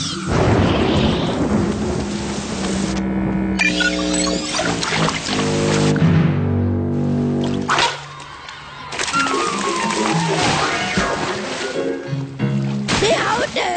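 In a Kid vs Kat cartoon baseball game, heavy rain pours while loud thunder cracks and rumbles repeatedly, with characters talking over the storm.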